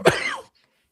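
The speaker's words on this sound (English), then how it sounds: "Oh, that was a cough." A single sharp cough, close and loud, lasting under half a second, followed by silence.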